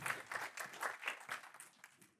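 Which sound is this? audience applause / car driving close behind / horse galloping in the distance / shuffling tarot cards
audience applause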